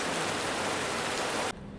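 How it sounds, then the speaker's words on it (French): Heavy tropical rain pours steadily on Penang, a dense loud hiss that fills the scene before cutting off abruptly near the end, leaving quieter background noise. "Il pleut pour la 5e fois."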